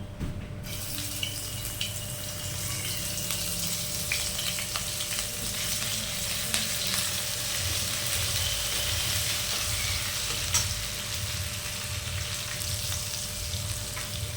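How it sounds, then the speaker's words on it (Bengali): Black cumin seeds and grated ginger fry in hot oil with a steady, dense sizzle that holds evenly throughout, close and fairly loud, with no talking. "সামান্য একটু কালো জিরে ফোড়ন, আর দেব গ্রেট করা আদাটা।"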